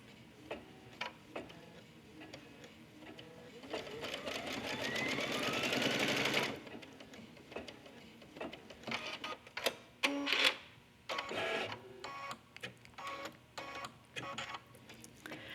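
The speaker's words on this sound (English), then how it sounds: "It's going to stitch one side, then the other." An embroidery sewing machine stitching a passport case in the hoop, fast rhythmic needle clatter that swells into a dense run, then breaks into short ticking bursts and pauses, close by with no talk.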